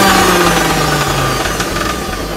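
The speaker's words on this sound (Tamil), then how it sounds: "நல்லா மையா அரைச்சிக்கலாம்." A kitchen mixer grinder grinds roasted coriander in a loud, steady motor whir with a gritty rattle, continuous and close throughout, with no talking.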